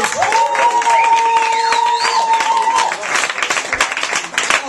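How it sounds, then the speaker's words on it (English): A stand-up comedy audience claps and cheers to welcome an improvising comedian to the stage, with dense applause, a few whoops and a shouted voice over the first half. "give him a huge round of applause"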